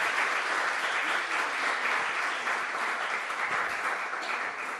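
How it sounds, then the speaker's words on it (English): An audience at a festival panel session applauds warmly, a dense, steady wash of clapping that holds for several seconds before starting to fade. "Can we get a round of applause for our fabulous panel?"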